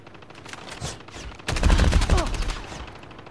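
Gunfire in Call of Duty: Mobile (Season III 2024 gameplay): quieter shots early, then a loud, dense burst of rapid automatic fire from about halfway through that keeps rattling to the end.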